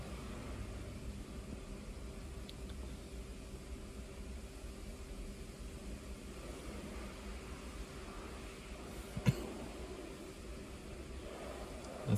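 A diesel car engine idles steadily during a DPF diagnostic check, a constant low hum with no voices, and a brief click near the end.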